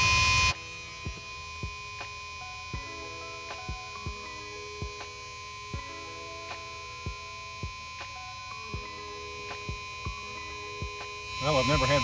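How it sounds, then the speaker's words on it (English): A steady electronic buzz from a bus's ignition-key buzzer drones under a regular ticking pulse, repeating about every three-quarters of a second, before a louder noise swells at the end. "Turn the key on. That stupid buzzer again."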